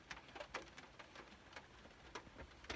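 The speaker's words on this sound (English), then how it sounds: "I'm in my car and it's raining." Steady patter of rain drumming on a car roof, with scattered sharper drips tapping irregularly over a low, constant hiss; fairly quiet and close.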